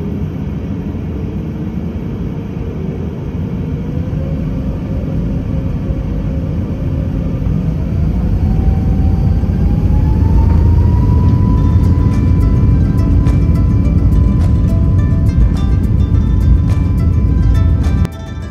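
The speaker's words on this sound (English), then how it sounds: "it was time to line up on the runway and get on our way" A full Comac C919 jet airliner rolls down the runway in Shanghai for takeoff. A heavy, steady engine roar and cabin rumble build as a rising tone climbs, with light rattles near the end.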